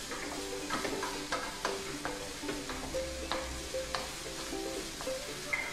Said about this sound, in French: on remue régulièrement pendant 7 à 8 minutes jusqu'à ce que les poivrons soient cuits